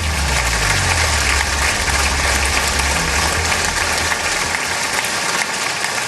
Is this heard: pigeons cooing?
no